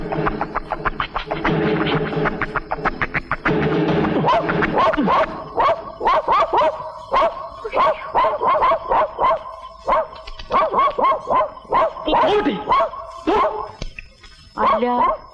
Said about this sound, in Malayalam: ആ പട്ടി അങ്ങോട്ട് അഴിച്ചു വിട്ടേക്ക്.